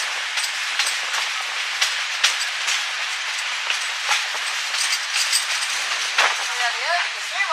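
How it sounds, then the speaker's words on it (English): Diesel locomotives working hard as they haul an excursion train on the Great Smoky Mountains Railroad, a steady, loud, broadband roar with wheel clatter throughout and faint voices nearby. "Diesels are working hard."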